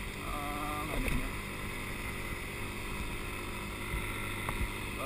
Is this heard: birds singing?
no